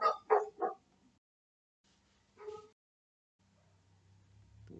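Dogs bark nearby in a quick burst of three loud yaps, then a single shorter bark after a pause, with a low hum rising toward the end.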